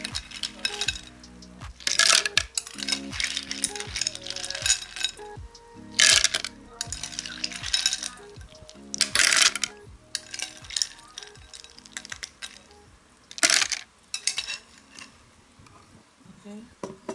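Hard little clinks and rattles of ice cubes come in scattered bursts, tumbling and knocking together, with quiet stretches between.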